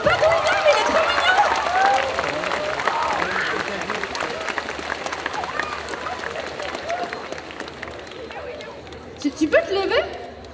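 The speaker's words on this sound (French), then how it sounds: "Oh, on peut l'applaudir s'il vous plaît." Audience applause at a solo cosplay contest, a dense, loud crowd clapping that stays steady through most of the stretch and then thins out, with a few louder bursts and a voice near the end.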